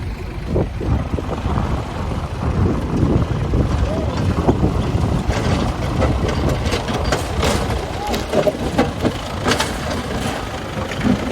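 A Russian tractor engine runs steadily at a bridge construction site in Dhangali, Dadyal, Azad Kashmir, a continuous low rumble with some wind noise while voices talk over it.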